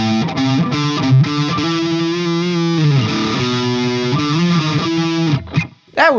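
A distorted electric guitar, a Les Paul with both pickups selected, plays chords and pentatonic riffs with a full, thick tone, loud and sustained, ending in a few quick picked notes.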